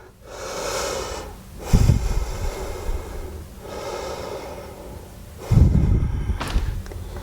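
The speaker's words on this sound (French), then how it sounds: "On reste ici pour 2 respirations." Slow, deep breaths sound close and alone during a yoga pose: long airy inhales and exhales, with two sharper snort-like breaths standing out.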